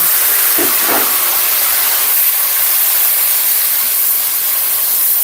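Onion paste dropped into hot oil for a home chicken roast, giving a loud, steady broadband sizzle and hiss that holds throughout, with a brief bubbling burst near the start.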